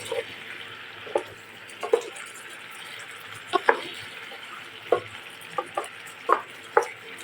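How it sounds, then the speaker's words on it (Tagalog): Buttered chicken adobo bubbling at a hard boil in a pan, with a steady sizzle broken by about a dozen short, sharp scrapes and knocks as a utensil stirs it, heard up close. "kapag ganyan na nga, kulong-kulo na yung ating chicken, pwede nang haluin"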